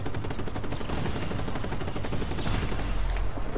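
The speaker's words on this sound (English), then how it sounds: "we're just gonna have to shoot them" Steady rapid gunfire fills the whole stretch in Just Cause 3 as wind turbines are shot at, dense and continuous with no pauses and no talk over it.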